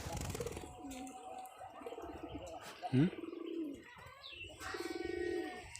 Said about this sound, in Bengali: আমি কিন্তু খোলামেলা পরিবেশে কবুতর লালন পালন করতেছি।